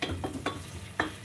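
Onion aderezo frying in a pan, a utensil stirring and scraping in a few short strokes over a soft, constant sizzle, close by with no speech.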